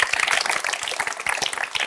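Short burst of applause, a small group of hands clapping quickly and irregularly for under two seconds, fairly close.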